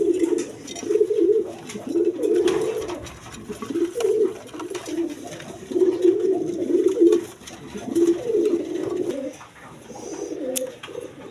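Several red Indian Bombay pigeons coo in low, repeated bubbling phrases, close by and fairly loud, with faint background clatter and no speech.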